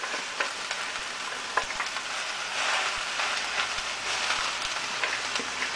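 Onions and other vegetables sauté in a pan, giving a steady close sizzle with scattered crackles and pops. No voices are heard.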